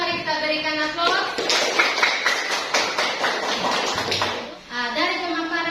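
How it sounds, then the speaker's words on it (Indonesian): A classroom group claps together for a presenting student group: a dense, close burst of applause that swells after a spoken introduction, carries on for a few seconds, and fades as a voice starts talking again. "Mari kita berikan aplaus"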